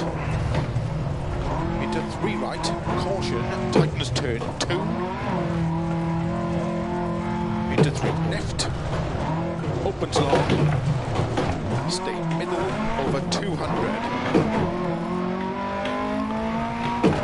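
A Lancia Fulvia front-wheel-drive rally car in DiRT Rally 2.0 revs hard through gear changes, engine pitch rising and falling with brief tyre skids on loose ground, while someone talks over it throughout.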